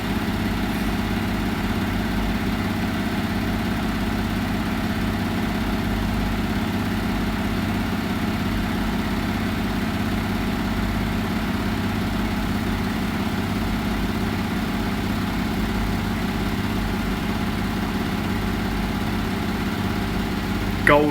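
A Hotpoint HE7L492 washing machine spinning at 1000 RPM on a cotton cycle, a loud, steady low drone with a constant motor hum and vibration throughout.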